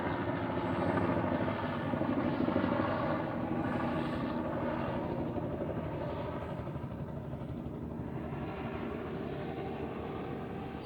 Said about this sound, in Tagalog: Tila 4 ang helicopter ng Sacramento Police Department.